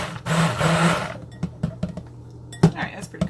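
An immersion blender whips eggs for an egg loaf in a bowl: a loud whirring burst of about a second, then scattered clinks and knocks of bowl and utensils.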